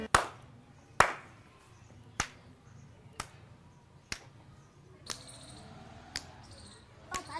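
A teacher in a classroom place-value counting game makes a slow series of about eight sharp hand claps and finger snaps, roughly a second apart, each crisp and isolated in an otherwise quiet room.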